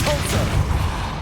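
A Compulso spell cast in Hogwarts Legacy gives a short, loud, dense burst with a booming low thump and a rushing noise that fills the whole moment.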